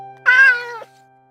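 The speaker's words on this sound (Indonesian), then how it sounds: "Dasar kucing gembul." A chubby cartoon cat gives a single clear, close meow that rises and then falls, with nothing else around it.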